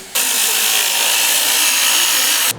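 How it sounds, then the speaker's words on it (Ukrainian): An angle grinder screeches steadily through steel rebar for a couple of seconds, loud and close, then cuts off abruptly. "Володимир Бубело болгаркою ріже арматуру."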